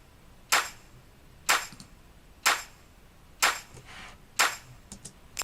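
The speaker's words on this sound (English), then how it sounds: "so the whole clap together would sound like this" Layered clap sample in a music production track sounding five times at a steady one-second pulse, each a crisp bright snap with a short tail, with no talking.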